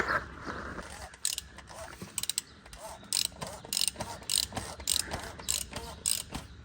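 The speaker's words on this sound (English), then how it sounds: "But I'm using a 1/2-inch ratchet" A 1/2-inch ratchet clicks in a string of short, sharp bursts while tightening on a 2020 Kia Rio during an oil change, close and fairly quiet, with brief pauses between strokes and no talk.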